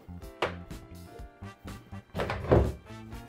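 A hotel suite bathroom door opening, heard as a series of close wooden thunks and knocks from the handle and latch, irregular and fairly loud.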